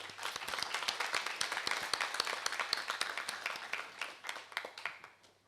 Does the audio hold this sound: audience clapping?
yes